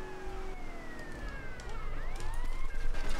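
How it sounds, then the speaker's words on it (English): A wailing electronic police car siren in GTA: Vice City sweeps up and down over engine rumble and road noise, loud and close, with no talking. "I forgot I can use the siren to get these dumbasses out of the way."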